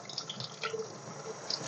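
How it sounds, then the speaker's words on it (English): Tap water runs and drips gently while ball python eggs from a banana pied clutch are rinsed under it, a soft, faint trickle with small splashy drips and no voices. "while I rinse this one off"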